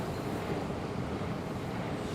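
Steady wind buffeting the microphone outdoors at the Hudson Yards development in Midtown Manhattan, New York, a continuous broadband roar with no break and no voices.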